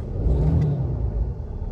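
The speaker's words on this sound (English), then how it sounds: "I'm going to rev the truck up a little bit just so you can kind of hear how the sound might transfer inside of the cab." A 2017 RAM 3500 Cummins diesel dually heard from inside the cab, its engine revving as a steady, muffled low rumble that stays fairly loud and even throughout, with no talking.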